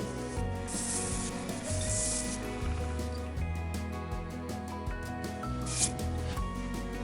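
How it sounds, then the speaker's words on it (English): A green abrasive pad scuffs across sanding sealer on a turned wood surface in a few soft, raspy strokes, heard over steady background music. "Take the greenie and scuff it up a little bit."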